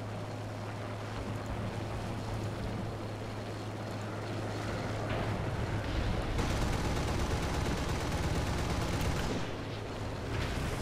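Tank guns firing in the War Thunder video game, heard as a dense, continuous rattle of gunfire over a steady low engine drone, loud throughout and swelling harsher and fuller midway before easing slightly near the end, with no voices.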